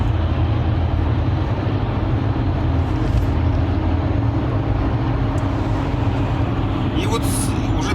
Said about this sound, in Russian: Едем сотку.